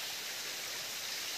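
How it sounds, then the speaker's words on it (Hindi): A mountain stream in the Uttarakhand hills, swollen by heavy rain, gives a steady, broad rushing roar of water at close range, with no voices over it. "ज़्यादा बारिश होने से पानी कितना ज़्यादा बढ़ रखा है यहाँ पर पहाड़ी में"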